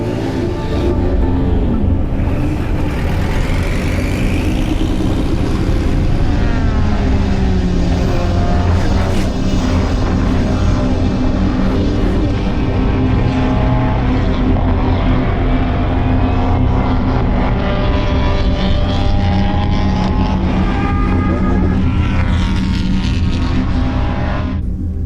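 Historic racing cars lapping the Spa circuit produce a continuous, loud engine roar for the whole stretch, with layered exhausts rising and falling as several cars rev and pass.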